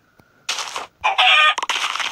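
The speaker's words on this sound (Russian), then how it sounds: "Курица." Video game chickens cluck and squawk in several bursts, close and loud, with no talking over them.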